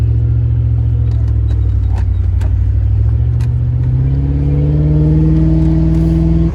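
A Toyota Crown engine rumbles loudly and steadily while driving, its pitch climbing smoothly as it accelerates toward the end, heard from inside the car.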